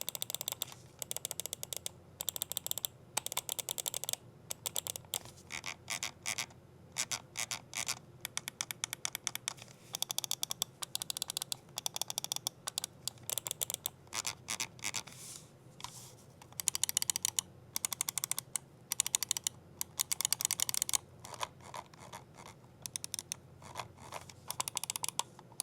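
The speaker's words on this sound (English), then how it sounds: "we just had to listen to the buttons on both of these mice" Buttons on two gaming mice are clicked repeatedly close to the mic: crisp, dry clicks in rapid bursts and short pauses, steady and unbroken by talk.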